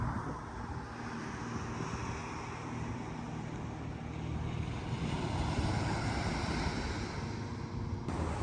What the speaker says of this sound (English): It's pretty eerie with that quietness and the ocean sound.